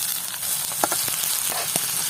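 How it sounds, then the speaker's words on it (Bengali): Onions and dried chillies fry steadily in soybean oil for a prawn bhorta, a close, continuous sizzle with a few light stirring clicks and no voices. "পেঁয়াজ আর মরিচ ভাজা হয়ে গেছে"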